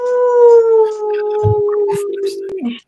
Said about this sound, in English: You got your howl for Werewolf Wednesday.